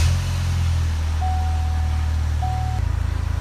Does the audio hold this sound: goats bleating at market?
no